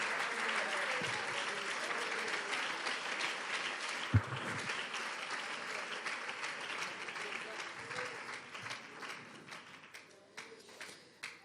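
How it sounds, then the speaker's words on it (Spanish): A church congregation applauds loudly for the Lord during a sermon, a dense, sustained wash of clapping with voices mixed in that thins and fades toward the end. "Dele fuerte ese aplauso al Señor."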